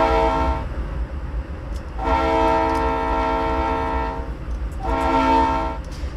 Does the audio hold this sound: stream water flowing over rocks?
no